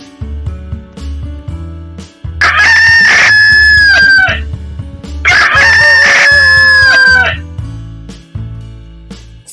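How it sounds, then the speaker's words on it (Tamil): A rooster crows twice, loud and drawn-out, over a bouncy synth music bed that plays steadily throughout. "கோழி"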